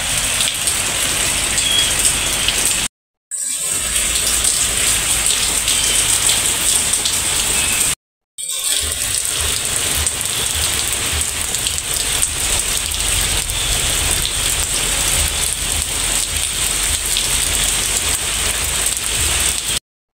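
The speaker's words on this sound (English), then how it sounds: "It's my first morning in the US of A and it's already raining." Steady rain pattering on a surface, a dense continuous hiss of drops that holds throughout, broken by two brief moments of silence.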